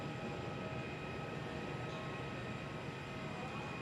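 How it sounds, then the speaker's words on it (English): A plane flying near Perth airport during plane spotting, a steady broad roar that holds level throughout, distant and fairly quiet, with no distinct voices. "They are a great aircraft flying."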